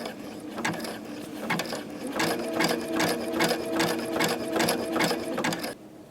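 A sewing machine stitches a button onto fabric, running in a steady, fast mechanical rhythm of clattering needle strokes for several seconds before it stops abruptly. The sound is close and even.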